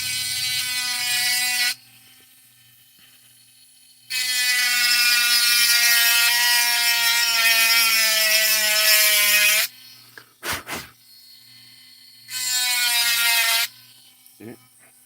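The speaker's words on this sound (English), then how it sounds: "I kind of just cut out the middleman of the file and just do the whole trench with the Dremel" High-pitched whine of a Dremel rotary tool cutting a trench into a lock, in three sustained loud bursts with quiet gaps and a brief clatter between them.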